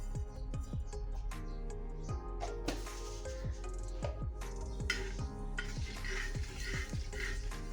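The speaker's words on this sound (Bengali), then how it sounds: "অল্প তেল দিয়ে দিলাম তাওয়াতে, সাদা তেল দিলাম। এতে দিয়ে দেবো সামান্য সাদা জিরে" Cumin seeds sizzle in a little white oil on a tawa, a steady close frying hiss broken by repeated scraping and clinking strokes of a stirring utensil.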